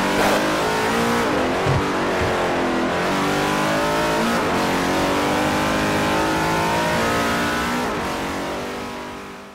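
A car engine in a racing video game drones loudly and steadily, its pitch sweeping up and down through gear shifts, then trailing off near the end.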